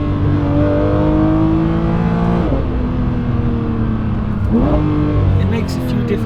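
A Porsche 992.2 GT3 Touring engine pulls hard and loud from inside the cabin, revs climbing through two gear changes in a steady, close roar.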